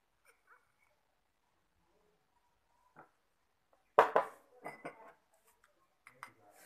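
A spoon clinks against a bowl while half a tablespoon of coconut oil goes into homemade cold cream, a few sharp taps and scrapes in a quiet room after near silence.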